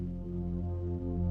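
Soundiron Harmonic Tides layer 1, a tidal ambience synth pad, holding a dense low harmonic drone with slow subtle pulsing, steady and continuous throughout, no voices.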